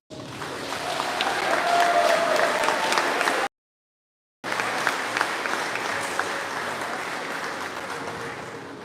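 Sustained audience applause at a police reserve ceremony on Guam, dense and steady, breaking off into a second of silence before resuming at similar strength.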